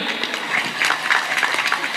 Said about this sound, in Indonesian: Haji, tepuk tangan dulu